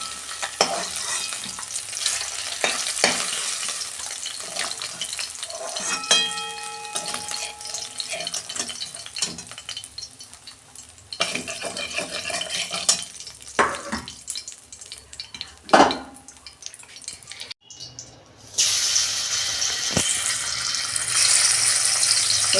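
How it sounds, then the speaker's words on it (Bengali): Amudi fish frying in a pan with steady sizzling, joined by stirring, utensil clatter and running tap water, louder bursts near the end. "এইভাবে আমি সব মাছগুলো ভেজে নেব।"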